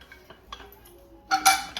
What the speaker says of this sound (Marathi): आता आपण झाकण लावून घेऊया मस्त कुकरचा